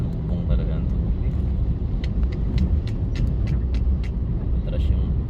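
A car reverses through a flooded street, its engine rumbling low and steady with water sloshing around, while people talk nearby.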